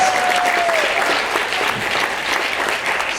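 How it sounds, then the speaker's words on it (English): Theater audience applause for a guest at a live event, a loud, sustained burst of many people clapping that stays full and even throughout, with a brief faint tone at the start. "Let's give her a round of applause."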